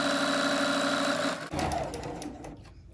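A sewing machine stitches fabric for a sunglass pouch, giving a fast, steady mechanical hum close by for about a second and a half, then slowing to softer clicks and taps.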